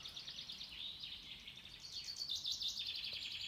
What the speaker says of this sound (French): ces oiseaux n'arrêtent pas de répéter la même chose